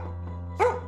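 A dog gives a single sharp bark near the end, loud and close, against a steady low background hum.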